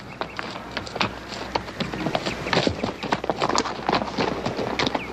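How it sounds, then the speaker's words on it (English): Horse hooves clip-clop steadily on dry ground near a creek bed in a Western setting, a dense run of sharp hoof strikes, fairly loud and close, with no talk over them. "This here's Ed Bain's horse."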